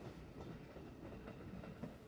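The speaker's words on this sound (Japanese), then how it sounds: "この場所は線路がたくさんあって次々電車がやってきます。" Commuter trains roll past on a busy multi-track railway yard near a depot, a faint, steady rumble of wheels on rails heard from a distance with no talking.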